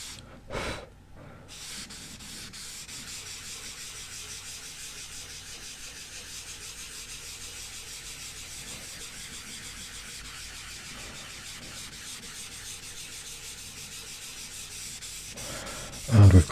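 Cotton wool rubbed lightly over paper to spread graphite, a soft continuous brushing hiss that runs steadily and close throughout, with a couple of brief louder bumps near the start and end.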